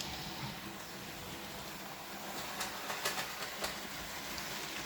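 A Hornby GNR N2 model locomotive runs along its track with a faint, steady mechanical whir, marked by a few light clicks near the end.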